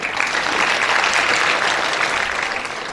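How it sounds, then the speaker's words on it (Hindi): Dense applause from a crowd at a university convocation, Veer Bahadur Singh Purvanchal University in Jaunpur, holds loud and steady for the full few seconds. "कृपया तालियों से स्वागत करें।"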